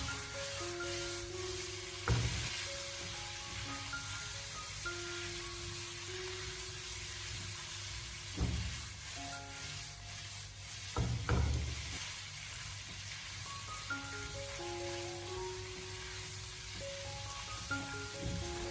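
Carrots and sliced pork stir-fried in a wok over high heat, a continuous sizzle under background music, punctuated by a few louder clatters of the spatula tossing the food.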